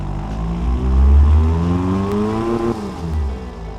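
In the racing-sim game Automation, an engine without mufflers drones and revs, a loud, raw, tractor-like tone that climbs and dips in pitch over a few seconds.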